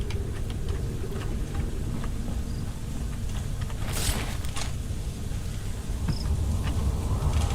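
Steady rain in the Fallout London video game world, a continuous broadband hiss with low rumble underneath, occasional faint insect-like chirps and a brief louder swell midway, no voices.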